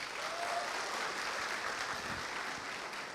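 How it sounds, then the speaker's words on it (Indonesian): Steady audience applause at a stand-up comedy show, a dense wash of clapping hands that holds evenly for about three seconds at moderate distance, with no voices on top. "Tepuk tangan dulu."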